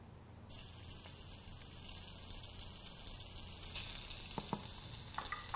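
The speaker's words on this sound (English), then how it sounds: "We're just gonna let it sear and color on one side." Pork belly seasoned with salt and pepper sears in a traditional Korean stone bowl, giving a continuous, fairly faint hiss of sizzling with a few light clicks near the end.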